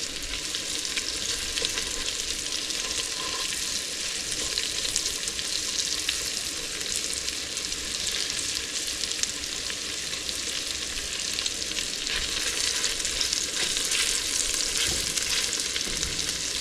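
Cornstarch-coated steak pieces sear in a hot pan for a steak bowl, giving a steady, loud broadband sizzle and crackle throughout with occasional stirring scrapes, no voices.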